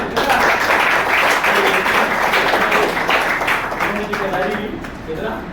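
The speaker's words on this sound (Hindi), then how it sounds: "जोरदार तालियां नंदन जी की बजा सकते हैं।" Strong applause from an audience at a Hindi business motivational seminar, a dense continuous clatter of clapping that holds steady and fades slightly toward the end.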